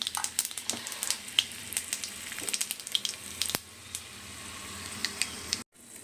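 Mustard seeds and chana dal sizzling and crackling in hot oil, a dense steady fry with sharp pops throughout, close and fairly loud, then a sudden cutoff near the end.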